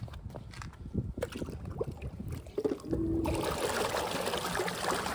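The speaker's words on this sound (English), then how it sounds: "You can see how it's pumping out a lot of water right now." A half-horsepower sump pump dropped into a pool hums and gushes water steadily, the flow rising to a loud, continuous rush partway through after scattered splashes and clunks near the start.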